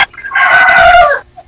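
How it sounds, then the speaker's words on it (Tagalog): A loud, close rooster crow rising and held for about a second, followed by a brief faint cluck, the bird near a live radio broadcast setting with no talk over it. "Maingay po talaga yung manok."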